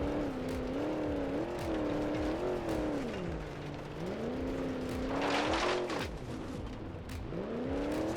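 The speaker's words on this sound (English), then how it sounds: "Starting to bog down a little bit there." A Moonhawk car engine in the BeamNG Drive driving simulator drones steadily off-road on lowered tire pressure. Its pitch rises and sags repeatedly as it labours and bogs down, with a brief burst of gravel or tire noise partway through.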